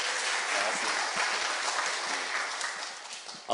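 Steady crowd applause fills a church children's dedication service, a dense wash of many hands clapping continuously at moderate volume throughout, with faint voices underneath.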